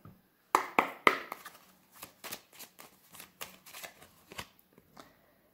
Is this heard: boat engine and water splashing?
no